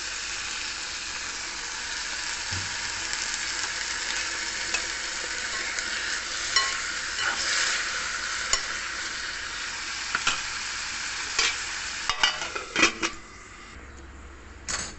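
Cauliflower and onion sizzle steadily in a hot frying pan, a continuous bright hiss with scattered scraping clicks and taps from a spoon stirring the pan, picking up toward the end before the sizzle quiets.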